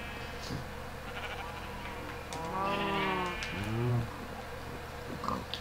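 Sheep bleating in the Minecraft video game on an animal farm, with two or three drawn-out wavering bleats in quick succession at moderate volume over a steady background hum.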